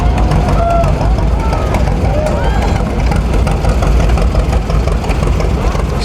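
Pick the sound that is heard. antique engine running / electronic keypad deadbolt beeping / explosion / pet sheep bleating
antique engine running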